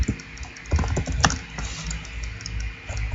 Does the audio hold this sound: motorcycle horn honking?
no